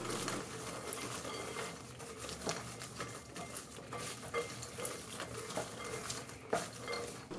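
Dried rosemary, salt, oil and a dash of cayenne pepper being mixed in a bowl. Soft, quiet scraping and clinking of a utensil against the bowl comes in an uneven rhythm, with small taps and rustles throughout.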